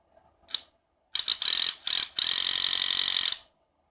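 Small DC motor and gear train of an RC tank cannon run on about 4 volts from a bench supply, whirring and clicking in several short bursts and then one steady two-second run, close and fairly loud.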